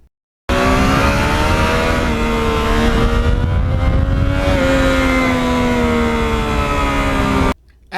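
Yamaha MT-09 motorcycle with an aftermarket muffler, idling then revving in a smooth, loud, close-up engine note that rises and holds steady for several seconds before cutting off abruptly.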